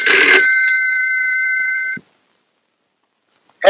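A telephone rings in an office with a bright, steady electronic tone for about two seconds, then stops. Silence follows, and a voice begins right at the end.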